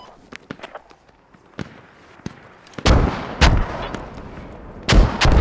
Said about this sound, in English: Those are great mortars. Keep the mortars up.